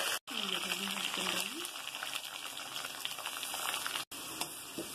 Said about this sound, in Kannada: ಈಗ ನಾನು ಕರಿಬೇವು ಸೊಪ್ಪು ಹಾಕ್ತೀನಿ.